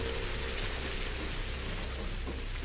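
Heavy rain pours steadily and densely throughout in the Pathologic Classic HD video game, a continuous broadband hiss with faint low rumbling underneath.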